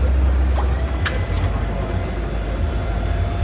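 A BendPak EV 2400 SL powertrain and EV battery pack lift, powered by a 12-volt DC battery, raises its load with a loud, steady low electric motor hum and drone, running alone without any talk.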